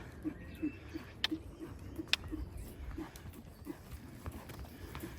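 Hooves clip-clop on the footing as a horse is ridden in an arena, a steady rhythmic beat that is moderately close, with faint background noise and no talk.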